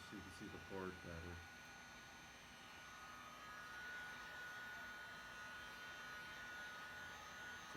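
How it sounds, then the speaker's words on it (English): A regular heat gun blows a steady hot-air rush across an Xbox 360 circuit board during a reflow, a continuous even whoosh after a brief rumble at the start. "So this is a regular heat gun"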